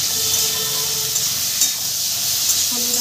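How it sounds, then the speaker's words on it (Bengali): Ridge gourd frying with turmeric and salt gives off a steady, close sizzle with a bright hiss. It stays even all the way through, with a few faint stirring clicks and no talking. "ঝিঙাটাকে একটু ভেজে নেব"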